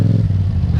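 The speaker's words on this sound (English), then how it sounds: "I'm a sucker for good exhaust notes on bikes" Exhaust note of a Yamaha FZ-07 motorcycle while riding, a steady low engine rumble heard close for under a second, with no talk over it.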